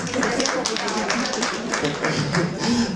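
Part of a live audience claps in scattered, uneven bursts while someone speaks over the applause.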